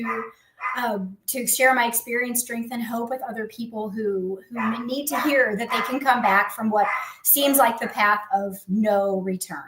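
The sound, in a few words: dog barking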